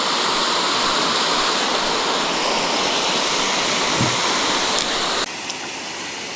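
A river rushes steadily at night in the upstream Ulu Baram area, a dense, close, unbroken roar of flowing water with no voices over it.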